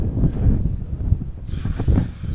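Hot desert wind blows across the Mojave in California at around 45 degrees, buffeting the microphone as a steady low rumble with a few stronger gusts and no talk.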